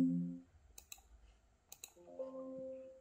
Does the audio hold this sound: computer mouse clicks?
yes